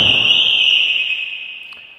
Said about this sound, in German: wenn die Diebe die Scheibe einschlagen und das Fahrzeug von innen öffnen, dann löst die Alarmanlage natürlich aus